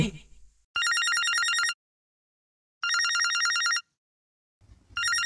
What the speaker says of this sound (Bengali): ওদিকে বিপ্লব বাড়িতে ফোন করে সৃজাকে বলে,